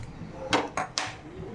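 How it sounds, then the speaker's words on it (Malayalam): A metal pan is set down on a kitchen stove before onions are sautéed for a buffalo tail dish: three quiet, sharp knocks in a row, with no talking. "അതിനായിട്ട് ഞാനിവിടെ ഒരു പാൻ വെച്ചു."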